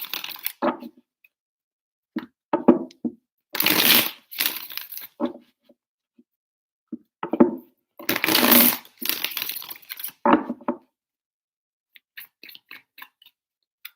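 A deck of cards is shuffled during a tarot-style reading in several quick rustling, riffling bursts separated by short pauses, close and clear with no talking.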